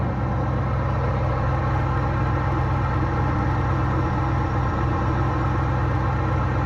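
A 1984 GMC Jimmy K5 with its original carburetor idles steadily, a continuous low rumbling engine drone with even pulsing, close and constant throughout with no talking.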